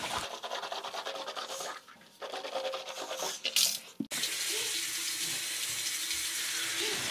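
Someone washes their face at a sink under a running tap. Close splashing and rubbing give way to a brief pause and clunk, then a steady stream of running water, with no talking.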